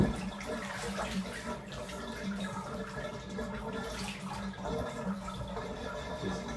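Steady running water, like a tap filling a bathtub, fills the clip with a continuous splashing wash that stays even from start to end, no voices heard.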